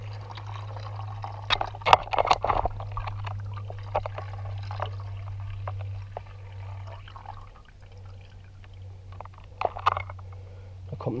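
Leftover coolant drains from a cut cooling hose on a Yamaha Aerox scooter, trickling and splashing in irregular bursts over a steady low hum.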